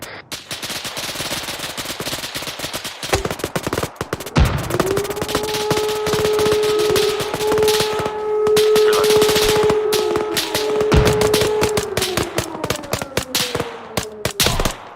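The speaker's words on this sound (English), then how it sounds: "We're LMGs for a reason. Ready to fire. Go!" Light machine guns fire in a dense, continuous rattle of rapid shots in a tactical game, loud and close, with a sustained tone running under the bursts partway through.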